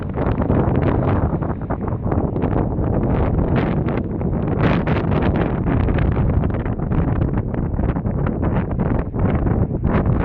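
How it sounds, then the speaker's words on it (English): Loud, constant wind roars and buffets the microphone throughout on a cliff path along the Causeway Coastal Path near the Giant's Causeway, a rough, rumbling gusty rush with no voices. "Really windy up here at the moment."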